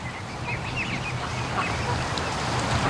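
Ducks and geese call outdoors in a noisy chorus of scattered honks and quacks, fairly distant over a steady wash of background noise, with no voices.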